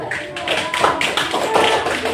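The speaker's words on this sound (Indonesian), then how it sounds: "Tepuk tangan untuk kelompok 1" A classroom group applauds a team of students, with brisk, uneven hand claps and taps mixed in among overlapping voices for about two seconds.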